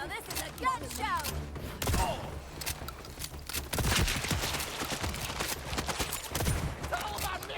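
Rapid bursts of gunfire in Borderlands 4, dense and continuous with heavy thumps, mixed with game music and effects throughout.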